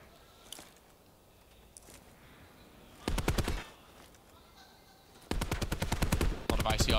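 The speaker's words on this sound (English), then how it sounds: "A lot of ICR gunfire going down." ICR rifle gunfire in a Call of Duty pro league esports match, heard as two loud rapid-fire automatic bursts about a second long each, plus a brief third burst, over faint background noise.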